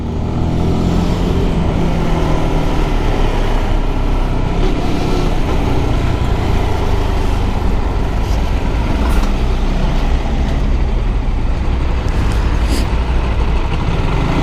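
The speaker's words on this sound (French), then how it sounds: "On reste toujours derrière le camion, faut jamais se mettre devant parce que c'est comme ça que vous pouvez vous faire renverser." A truck travels just ahead of a Zontes Roadster 125 motorcycle on the road. Continuous loud, close engine drone and road roar run throughout, with faint brief hisses.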